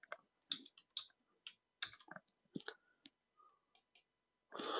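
Computer mouse clicking while adding a domain in Active Directory for Office 365, a scattered series of sharp close clicks at irregular intervals in a quiet room, ending with a brief breathy sound.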